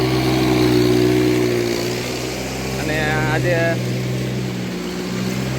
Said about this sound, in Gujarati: અહીંયા ટ્રેક્ટરથી કામ પણ ચાલી રહ્યું છે,